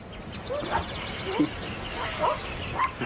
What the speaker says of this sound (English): Oh, nice dog.